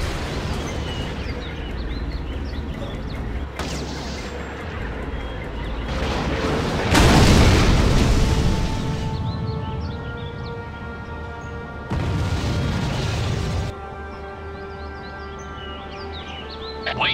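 A tactical weapon strike in the strategy game Act of War lands as a deep, heavy explosion, followed later by a second rumbling blast, with chirping bird-like calls lingering between the impacts.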